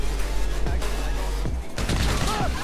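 Rapid gunfire in GTA V Online striking a wall, loud crackling bursts of shots mixed with ricochet-like whines and a steady low engine-like drone underneath.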